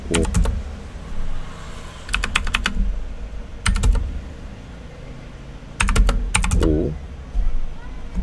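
Several bursts of keyboard typing while drafting in AutoCAD, clusters of quick clicks separated by pauses over a low background hum, moderately close.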